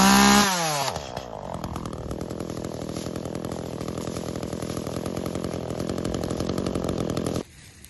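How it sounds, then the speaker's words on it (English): A chainsaw revs up loudly and then runs steadily while bucking felled backyard trees into firewood, close by, before dropping off abruptly at the end. "She's handling that chainsaw like a pro."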